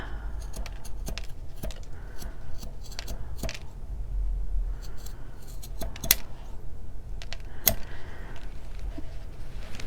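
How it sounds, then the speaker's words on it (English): Scissors snip through macrame cord at an angle while making feather jewelry, a series of crisp close cuts spaced irregularly across a quiet background. "now I'm going to cut at an angle, going up"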